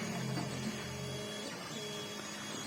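A laser engraver runs on its own without a laptop, giving a steady mechanical hum with low tonal drone and faint whirring throughout, fairly quiet and continuous with no talk.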